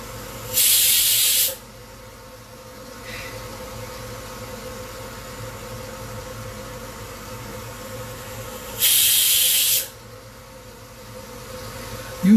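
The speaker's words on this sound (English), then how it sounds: "You see slightly longer whistles. This is because the tomatoes have started leaking moisture, so the steam buildup is faster." A pressure cooker cooking bhindi curry with tomatoes vents steam in two loud, close bursts of hissing whistle, each about a second long and several seconds apart, with quiet between them and no talk.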